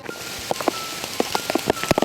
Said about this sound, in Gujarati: ખૂબ વરસાદ છે